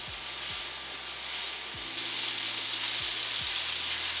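Meatballs browning in hot oil in a pan for Italian mini meatball soup, a loud, steady close sizzle that grows a little stronger partway through, with a faint low hum underneath and no talk.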